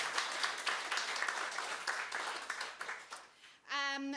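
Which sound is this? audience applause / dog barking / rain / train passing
audience applause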